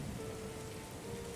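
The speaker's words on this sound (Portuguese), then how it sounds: "naquela noite caiu uma leve chuva" Light rain falls at night, a soft, even patter and hiss throughout with no voices.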